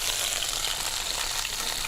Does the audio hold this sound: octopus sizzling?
yes